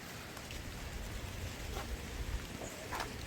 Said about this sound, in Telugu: ఘోరంగా దొడ్డు వర్షం పడుతుంది.